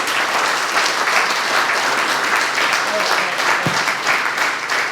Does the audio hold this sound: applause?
yes